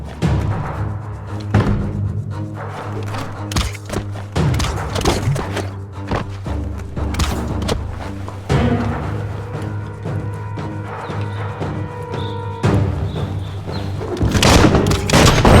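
Repeated booms and blasts after shooting in Biomutant, loud thumps and explosive bursts scattered through a busy stretch of combat sound, ending in a heavier run of impacts.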